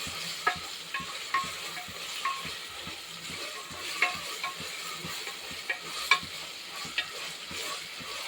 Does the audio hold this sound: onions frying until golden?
yes